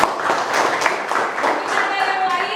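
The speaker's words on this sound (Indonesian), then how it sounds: "Tepuk tangan dulu untuk Astri" Classroom applause for a student in a mathematics lesson: a brief burst of many hands clapping together, close and fairly loud, with voices mixed in.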